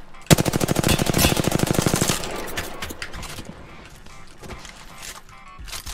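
Loud rapid automatic gunfire rattles for about two seconds in Apex Legends, then gives way to scattered quieter shots and game noise.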